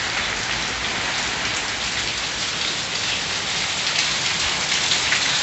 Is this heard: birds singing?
no